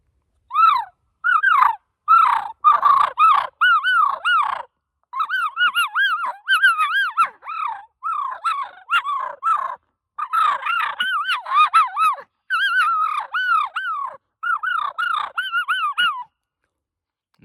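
Rapid, raucous turkey yelps and squawks from a hand call mimic two birds fighting, coming in dense bursts with brief pauses, loud and close.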